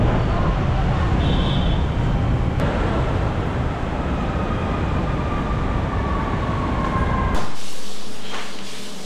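Inside a crowded metro train in the Philippines, a steady loud rumble of wheels and carriage noise with murmuring passengers fills the car, then cuts to near quiet near the end.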